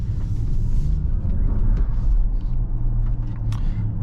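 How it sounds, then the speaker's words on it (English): A Kia EV6 GT accelerates hard on a road while its tires scrabble for grip, giving a loud, steady low rumble and road roar close by with faint squeal-like streaks and no voices. "You can really hear how the tires are struggling for traction"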